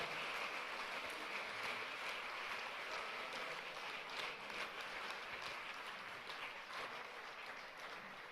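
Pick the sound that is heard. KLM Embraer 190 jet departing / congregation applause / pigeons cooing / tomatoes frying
congregation applause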